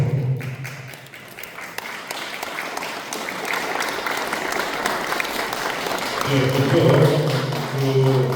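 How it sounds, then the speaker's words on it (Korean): A crowd at a Korean 80th Liberation Day commemoration applauds film director and investors coming forward, sustained dense clapping that swells louder toward the end, with a voice briefly speaking under it. "여러분 앞으로 나오시면 큰 박수 해주시기 바랍니다."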